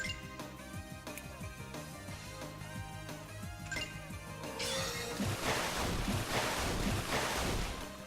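Wind magic attack in the RPG Maker VX Ace game Sacred Earth - Promise, a loud rushing whoosh that swells up after about four seconds over the game's music and keeps roaring to the end.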